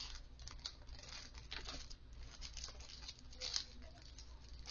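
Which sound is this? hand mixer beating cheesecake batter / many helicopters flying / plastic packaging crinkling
plastic packaging crinkling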